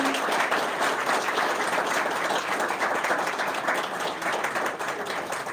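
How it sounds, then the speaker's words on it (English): An audience at a congressional briefing on Black men and boys in medicine applauds its panelists, a steady, dense wash of many hands clapping at moderate loudness that carries on without letup and without any voices over it. "giving a round of applause to our panelists"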